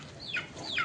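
A little chicken standing on the ground gives two short, high, downward-sliding peeps about half a second apart, fairly faint and close, with no other sound around them.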